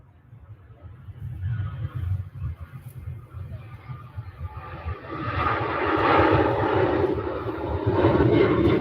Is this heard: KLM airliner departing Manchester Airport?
yes